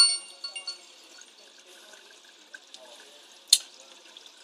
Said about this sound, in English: the water is still filling into this tank quicker than it's emptying.